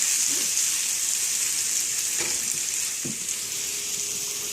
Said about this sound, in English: I just want these to saute a little bit